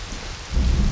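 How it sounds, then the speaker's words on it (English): Rain falling in the online role-playing game Black Desert Online, a steady hiss that swells into a heavier, low rumbling downpour partway through, with no voices. "he's getting wet because it's raining"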